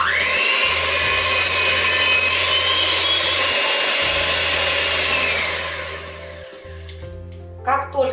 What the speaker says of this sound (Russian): Все это нужно будет взбить в пышную пену.